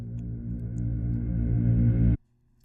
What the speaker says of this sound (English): I just reversed this first piece of the bass guitar, and then I exported that with some reverb